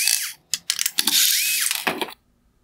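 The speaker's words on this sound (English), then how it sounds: "I will begin by removing the two T20 torque screws." A powered driver spins out two T20 Torx screws from the lower LED unit of a 2019-2021 Porsche Cayenne headlight, giving short whirring bursts with ratcheting clicks and a rising-falling motor pitch, close and loud, no talk.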